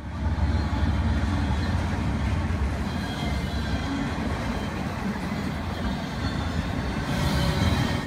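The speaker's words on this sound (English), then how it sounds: "we caught this auto rack train coming into Springfield on the Thayer North subdivision" A BNSF auto rack freight train loaded with new vehicles rolls past close by, its loud, steady rumble and rattling wheels filling the scene without a break.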